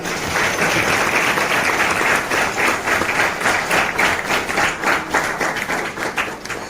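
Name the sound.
audience applause approving a resolution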